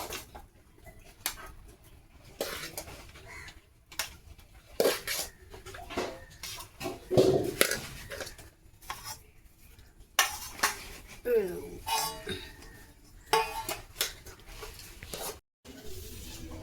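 Dishes and cutlery clink and scrape while rice is served at home, with irregular close metallic taps and knocks over a room murmur and bits of background voices.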